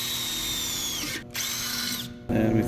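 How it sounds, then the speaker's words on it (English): A power drill fitted with a 9mm bit bores a hole for a quarter-20 rivet nut, whining loudly and steadily in two bursts with brief pauses, its pitch dropping under load, then a rougher final grinding burst. "for quarter 20, it says we're going to use a 9mm drill"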